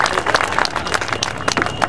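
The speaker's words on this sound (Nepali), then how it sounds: "हजुरहरू ताली अलिक पुगेन" An audience at a spiritual discourse in Nepal claps in a brief, scattered burst of applause that sounds thin. A voice can be heard over it.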